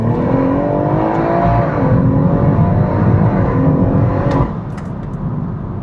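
A 630bhp stage 3 BMW M140i pulls hard from second gear with traction control partly on, its engine roaring loud and close with rising harmonics before the note drops sharply near the end.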